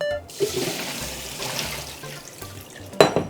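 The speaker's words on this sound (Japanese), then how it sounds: "お湯を切りたいと思います。" Hot water being drained from boiled bean sprouts, heard as a brief, close splashing rush of liquid pouring out, ending in a sharp clatter.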